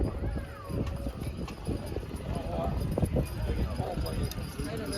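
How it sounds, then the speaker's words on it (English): Horse hooves clip-clop and harness chains jingle at a horse pull event, a brisk uneven patter at moderate distance with people talking in the background throughout. "We're watching a good horse pull, folks"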